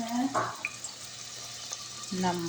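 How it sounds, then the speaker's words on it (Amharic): Chopped onion sizzles and sputters steadily in hot oil in a pot, the start of a bean stew, a soft continuous frying hiss under a voice talking close by. "ሽንኩርቴን በዚህ መልኩ እያቁላላሁ ነው"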